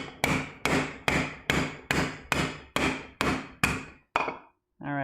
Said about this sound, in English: I'll rotate it and then kind of pound it out so that it gets a little bit longer in the other way